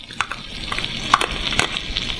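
Onions, red and hot peppers and tomatoes simmer in a pan with a steady, close sizzle, broken by sharp crackles and pops scattered through the stretch, with no talking.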